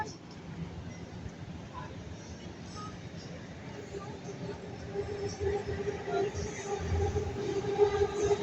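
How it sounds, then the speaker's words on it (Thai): An electric skytrain pulls into an elevated station by a skywalk in a city of tall buildings, its low rumble swelling steadily toward the end over a constant hum, with faint crowd voices behind. "เติมรถไฟมาอีกแล้ว"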